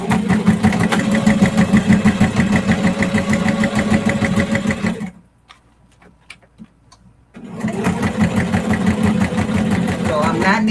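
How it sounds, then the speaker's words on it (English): A sewing machine runs fast top-stitching along clear vinyl plastic for a project bag, a dense rapid mechanical chatter. It stops for about two seconds of near silence, then starts up again at full speed. "let me see if I can get a clean top stitch"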